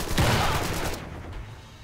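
Rapid gunfire from the 1920s gangster strategy game Empire of Sin bursts out in a dense loud volley that fades over about a second into a quieter tail.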